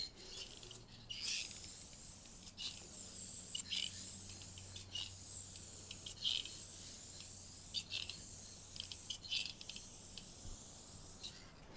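Spray gun laying down a final heavy coat of 2K clear, a steady airy hiss broken by short pauses between passes, close and fairly loud throughout.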